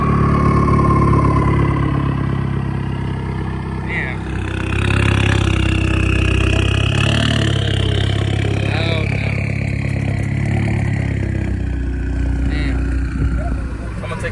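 Volkswagen Jetta GLI fitted with a CTS catless downpipe, its loud turbocharged engine droning steadily throughout at close range, with people talking over it.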